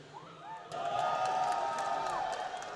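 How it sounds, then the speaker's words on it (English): Audience at a live esports event, IEM New York 2011, cheering loudly for a team: a sustained roar with whoops and shouts that swells after a brief lead-in and holds near and full throughout. "let me hear you guys cheer in the audience"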